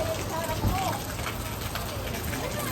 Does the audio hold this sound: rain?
yes